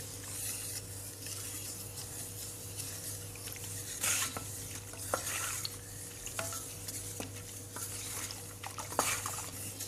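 Soap stirred into lemon peel juice until it dissolves, a soft continuous swishing with occasional light clinks of the spoon against the container, close and quiet, no talking.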